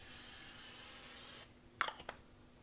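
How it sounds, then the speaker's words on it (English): A steady broadband hiss of nonstick cooking spray on a hot griddle lasts about one and a half seconds, then stops, followed by a few light clicks and taps. "Then I'm going to spray with some nonstick spray."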